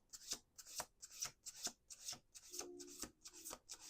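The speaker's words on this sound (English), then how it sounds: "Last shuffle." Tarot cards are shuffled close up in quick rhythmic rasps, about a dozen soft riffling strokes in a quiet room.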